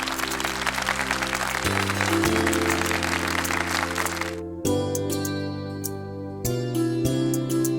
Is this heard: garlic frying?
no